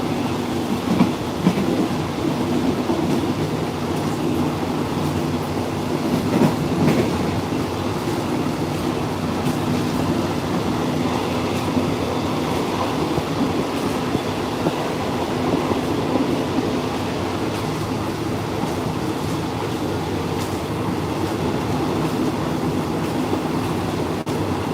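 A railroad car rolling on tracks during a train ride through China, a loud steady rumble with rhythmic clickety-clack of wheels, heard from inside the carriage and continuing without a break.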